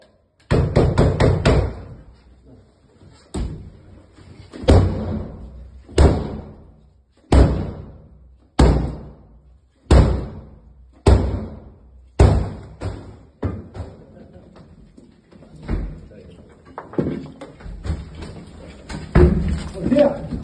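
Police force and break down a door during a raid, a long run of loud, heavy blows landing about once a second, with shouted voices between the impacts.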